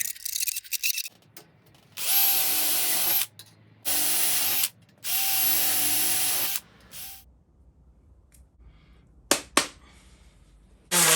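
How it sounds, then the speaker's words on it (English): Power drill with sharp bits boring into metal floor and sill panels of a classic Mini, three loud sustained whining bursts separated by pauses, followed by scattered clanks and taps. "I'm using my drill. I've got a few sharp drill bits that I make sure I keep sharp"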